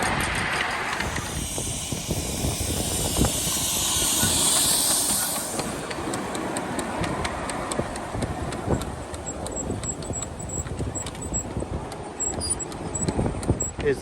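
A miniature steam locomotive on a model railway hisses steadily at close range, with a strong burst of steam early on, and then settles into rhythmic clicking and rumbling over the track.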